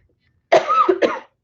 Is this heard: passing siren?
no